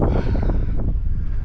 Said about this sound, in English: This wind has not let up either.